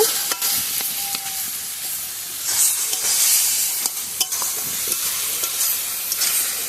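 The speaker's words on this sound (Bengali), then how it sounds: "এবার সবগুলো খুব ভালো করে মিশিয়ে নেব" Spiced taro leaf mixture with turmeric and salt is stirred and mixed steadily in a pan, a continuous soft sizzle and hiss running under repeated scraping strokes, close and fairly loud throughout.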